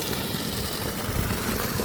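A 1500 W BLDC solar-powered water pump motor runs on a farm in Dharmapuri, pushing water through a 63 mm pipe into a two-foot channel. It makes a steady, close, unbroken rush and hum that stays even throughout.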